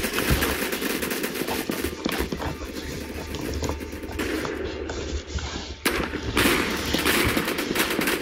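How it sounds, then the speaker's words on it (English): Rapid gunfire in the shooter game Phantom Forces, dense bursts of crackling shots that run almost without pause, loud and close, with brief gaps between volleys. "he shot right through the wall"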